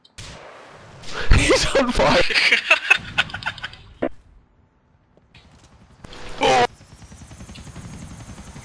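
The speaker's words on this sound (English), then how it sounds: "Chopper got stuck." Game helicopter from GTA 4 on a rooftop, a steady low rotor chop that runs under bursts of loud gunfire-like noise and brief laughter, then continues alone as a rhythmic whirring at the end.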